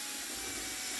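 A bench grinder sharpens a spinning brass rod turned by a drill: a steady, loud high-pitched grinding whine with constant broadband hiss, continuous and close.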